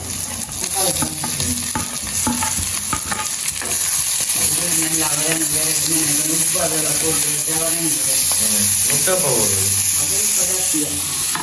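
Green chillies tossed into a hot pan in a Jaffna home kitchen give a loud, continuous sizzle with stirring scrapes, while a person talks over the cooking throughout.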